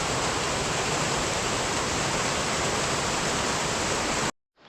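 Waterfall water rushes out of a culvert into a small creek that runs down to the Wynoochee River. It is a loud, steady, close roar that stops abruptly near the end.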